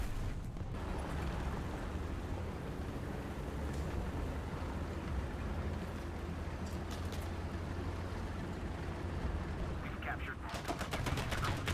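In War Thunder, gunfire pounds a Char FCM 2C heavy tank amid a constant rumbling battle din, with scattered impacts and a rapid burst of shots toward the end.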